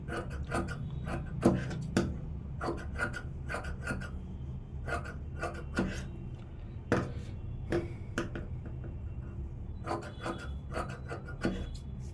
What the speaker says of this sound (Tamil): இப்போ எக்ஸ்ட்ரா இருக்கிற துணி வெட்டிடலாம்